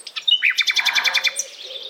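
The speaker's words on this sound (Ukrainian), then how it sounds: "Ти чуєш? Пташка співає." A songbird sings in spring, a clear close phrase of quick repeated chirps in an even rhythm, ending in a thinner trailing note with no other sound around it.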